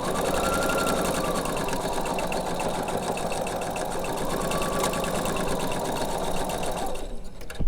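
A sewing machine stitching fabric in a continuous fast, steady mechanical whir and needle chatter, close and even, stopping abruptly right at the end.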